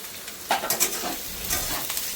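Onions hiss and sizzle in a pan with frying potatoes while being stirred, with a few soft scraping taps over the steady frying noise.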